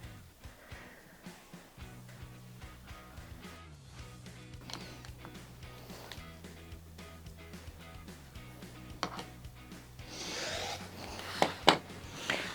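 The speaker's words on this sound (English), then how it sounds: "I'm just going to make my cut." Fabric for hourglass quilt blocks being cut, with a steady run of soft scraping, zipping strokes under a low hum, growing louder with sharper clicks near the end.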